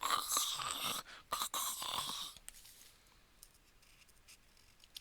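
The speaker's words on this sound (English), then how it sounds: "And this marker is crunchy." A marker scratches and squeaks across paper in rough, gritty strokes for a couple of seconds, then fades to faint scratching and near silence.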